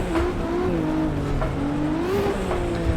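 A racing car engine in the Assetto Corsa video game hums steadily at high revs on a victory lap, its pitch rising and dipping slightly as it cruises, loud and continuous with no talking.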